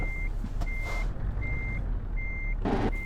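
Truck reversing beeps in the Euro Truck Simulator 2 video game, four evenly spaced electronic beeps over a low engine rumble, with a short hiss near the end.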